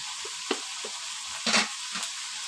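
Khesari greens with salt stirred in a pan, a quiet low sizzle broken by several soft scraping and tapping strokes of a spatula at uneven intervals.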